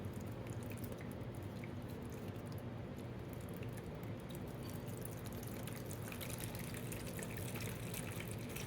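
Steady water pouring and trickling during a water change on a guppy tank kept in a glass sun tea jar, a continuous close splashing flow that runs without pause.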